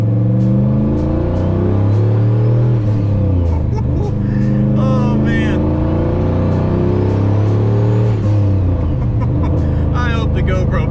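A turbocharged, engine-swapped 1999 Ford Ranger revs hard on a dyno, loud rising and falling engine pulls with turbo whistle, while someone speaks briefly over the roar.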